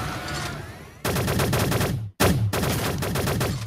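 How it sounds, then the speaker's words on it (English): Free Ranger gun firing in the egg-themed shooter game Shell Shockers: loud, rapid bursts of repeated shots in quick rhythm, broken by a brief silent gap before firing resumes. "I'm gonna go back to my habitual gun. Called the Free Ranger."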